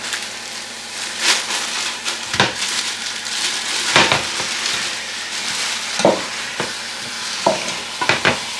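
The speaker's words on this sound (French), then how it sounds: "Je vais faire revenir mes oignons. Je rajoute ma viande." Onions and meat frying in a pan, a continuous close sizzle punctuated by repeated scraping and clattering stirs every second or so, with no talking.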